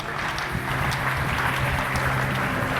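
A church congregation claps in sustained applause praising God, a dense, even wash of many hands close around, with no talking over it.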